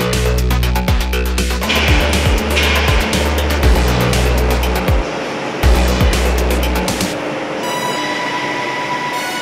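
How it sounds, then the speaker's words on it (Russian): A huge cable stranding machine at the Moskabelmet cable plant twists wire strands into a single cable, giving a loud, steady mechanical rumble with rhythmic clanking beats and shifting metallic whine. "Это огромная машина, крутильное оборудование. Здесь она скручивает жилы в единую конструкцию"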